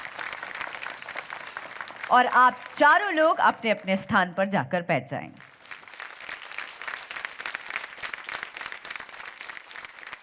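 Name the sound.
studio audience applause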